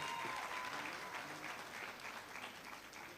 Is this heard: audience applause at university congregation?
yes